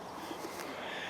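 Pigeons cooing inside an old church tower at St. Martin's, Roudham, a faint, soft murmur of calls spread across a short stretch with no talk.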